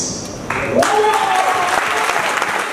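Audience applause at a political gathering in Côte d'Ivoire, rising suddenly and continuing steadily while a speaker's voice carries over it.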